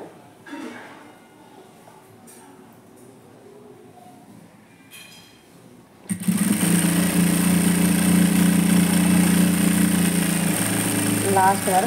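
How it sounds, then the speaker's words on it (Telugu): A domestic sewing machine stitches a blouse, its loud, steady mechanical whir starting abruptly midway and running continuously after a quieter stretch with soft voices. "తిప్పేసి మళ్ళీ కుట్టేయాలి."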